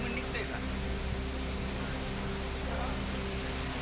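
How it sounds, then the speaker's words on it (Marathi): Unseasonal rain falling in Igatpuri, a steady broadband hiss of rainfall with a constant low hum underneath, continuous and moderately loud throughout with no clear voices. "इगतपुरीत अवकाळी पावसाची हजेरी"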